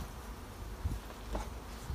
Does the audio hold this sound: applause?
no